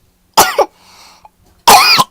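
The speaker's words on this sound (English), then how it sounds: "Oh my god, I need to cough so bad" Two sharp, close coughs about a second apart, the first a double burst, with a faint breathy throat sound in between, in an otherwise quiet room.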